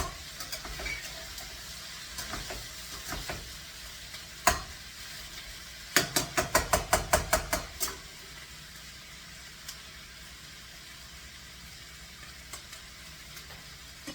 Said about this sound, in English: What we're actually doing is frying these up.